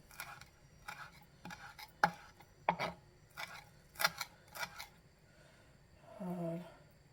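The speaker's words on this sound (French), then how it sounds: "On va bien couper." A knife cuts vegetables such as chayote in a home kitchen, making a series of soft, separate slicing and chopping strokes at irregular intervals, fairly close and quiet, with a short muffled sound near the end.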